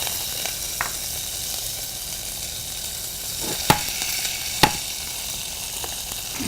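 Cassava root frying in hot oil until golden brown, a steady broad sizzle with a couple of sharp utensil clicks partway through.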